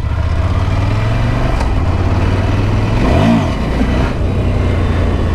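A 2017 Ducati Monster 797 motorcycle engine runs loud and close during a wheelie attempt, holding a steady note before a quick rev swell midway, then settling back.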